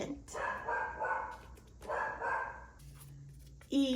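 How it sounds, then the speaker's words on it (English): A dog barks in the background at home, two muffled barks a little apart under a voice teaching letter sounds, then a brief sharper yip at the end. "my dog is barking in the background"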